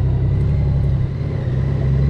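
Motorcycle engine rumbling steadily while riding on a road toward a damaged covered bridge in Pennsylvania, a constant close low drone with slight wind noise and no letup.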